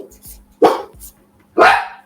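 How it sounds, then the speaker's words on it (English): A pet dog barks twice in sharp, loud bursts about a second apart, with faint softer yips between them in an otherwise quiet room. "And there's my dog. There he goes."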